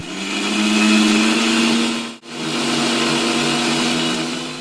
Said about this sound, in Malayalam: അപ്പോൾ നമുക്ക് ഈ കൂട്ടൊന്ന് അരച്ചെടുക്കാം